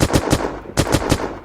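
Rapid bursts of rifle fire from a weapon in the video game Unturned, two quick strings of three or four loud close shots separated by a short pause, with no voices.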